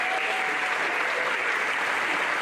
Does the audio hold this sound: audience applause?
yes